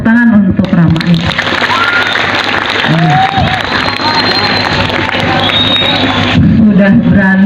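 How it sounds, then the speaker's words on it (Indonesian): A school crowd applauds and cheers for a ninth-grade student in a loud, steady wash of clapping lasting several seconds, with voices mixed in at the start and end. "Tepuk tangan untuk Rama ya."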